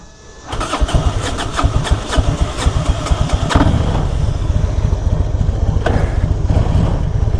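A 1999 Harley-Davidson Electra Glide Standard with about 126,000 miles, a slightly low battery and no choke cranks and fires up, then settles into a loud, close, lumpy idle with no talk.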